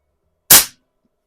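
A single sharp, loud shot from an Air Venturi Alpha compact regulated air pistol, close up, then silence.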